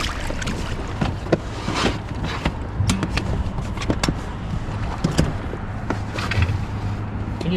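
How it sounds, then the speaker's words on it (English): A small outboard engine on a fishing boat runs steadily on an Alaskan summer trip, a close, continuous motor drone mixed with water and hull noise, with a few clanks and knocks on board and no talking. "Let me drop the engine"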